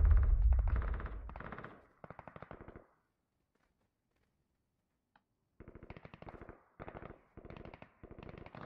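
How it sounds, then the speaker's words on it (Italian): Rapid bursts of automatic gunfire crackle in quick rhythmic volleys in the game Ring of Elysium, fall silent for a few seconds, then resume with several more bursts. "Spari. Però non riesco a capire da che direzione arriva."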